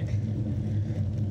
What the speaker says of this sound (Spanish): baja un coche